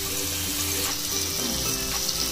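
Chicken tikka kebabs frying in hot oil on a tawa over a low flame, a dense continuous sizzle holding steady throughout, close and fairly loud with no speech.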